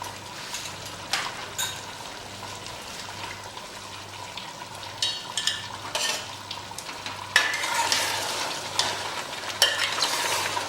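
Steady sizzle of green chili paste frying in a pan for mutton korma, with repeated scraping and clinking of a spoon stirring at irregular intervals, close by and fairly loud.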